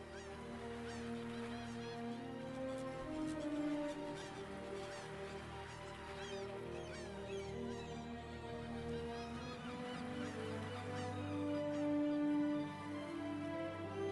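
Seagull-like bird cries layered over the login theme music of the video game Pantheon: Rise of the Fallen, repeated honking calls over sustained musical tones, fairly faint and steady throughout.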